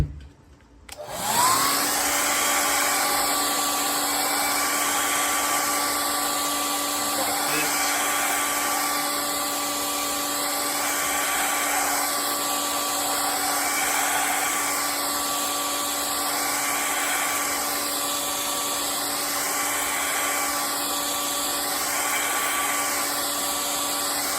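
A hair dryer blows loudly and steadily on a warped Lasko fan blade after a brief click on, its whirring hum holding constant with a slight pulsing wobble.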